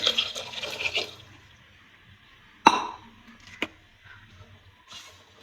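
Water is poured into a pot of pirandai kuzhambu, a Tamil curry, heard as a short watery splash and trickle that stops, then a couple of sharp clinks and soft splashes from the pot.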